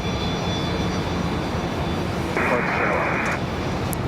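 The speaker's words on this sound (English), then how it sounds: "So this 737 on the way to LA." Boeing 737 jet taking off from Raleigh-Durham airport, a steady broadband engine roar heard at a distance, continuous and moderately loud throughout with a faint tone appearing midway.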